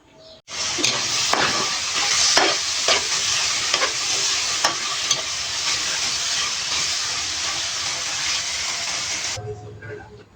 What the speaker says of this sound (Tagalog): Piprituin ko na lang to guys.